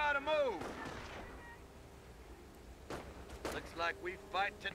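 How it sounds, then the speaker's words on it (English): Mortar shells from the video game Company of Heroes hit an enemy bunker, with a few sharp distant booms spaced apart amid battle noise, and someone talks over them. "I'm using the mortar to attack his bunker"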